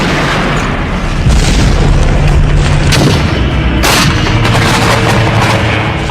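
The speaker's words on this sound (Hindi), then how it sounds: "अचानक पहाड़ों में एक साथ दसियों बम फटे और वहां मौजूद हर सामान बर्बाद हो गया" Bombs explode in mountainous terrain, a dense barrage of booms and sharp blasts overlapping one another, loud and continuous with bursts standing out over a rumbling background.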